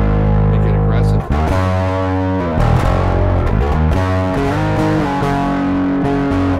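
Heavily distorted electric bass played through an aggressive preamp pedal with boosted mids plays sustained notes and slides, gritty and aggressive, loud and up front with no talking.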